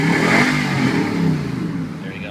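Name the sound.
2008 Nissan Titan high performance exhaust revving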